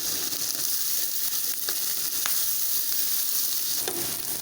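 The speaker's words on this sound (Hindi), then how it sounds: "इसको भी हम अच्छे तरीके से हिला लेंगे।" Minced meat keema with salt, turmeric, dried coriander and chili sizzles steadily in a frying pan, with scattered scraping clicks from stirring over the constant close frying hiss.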